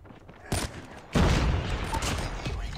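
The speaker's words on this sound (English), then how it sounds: "It's the guy in spawn just shooting or something." Gunfire in the Call of Duty Mobile shooter: a sharp burst near the half-second mark, then a louder sustained volley of shots running to the end, fairly close and dense.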